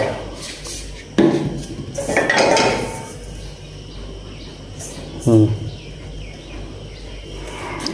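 A cooking pot is handled in a village kitchen while lentils with bottle gourd are being prepared, giving a few sharp metallic clanks and knocks near the start and again later, with quieter rustling between and faint background ambience.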